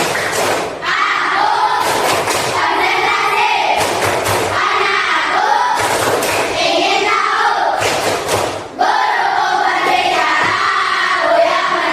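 A classroom group of students performs the rhythmic concentration clap, loud unison claps in patterned bursts with short pauses and shouted chanting between them, recorded close.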